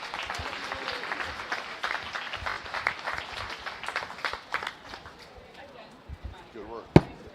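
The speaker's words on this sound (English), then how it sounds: "she deserves a big round of applause" Scattered audience clapping at a county fair beef cattle show, uneven and moderately close, with talk and arena noise mixed in and a sharp knock near the end.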